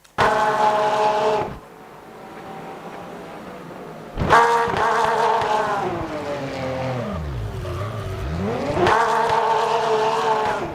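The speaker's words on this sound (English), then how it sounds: "fuck the tyres, I'm going to burn them out" Racing car engine in a sim racing game revs loudly in sustained harmonic bursts, dropping and swooping in pitch between surges while the tyres are burned out, steady and close with no talk.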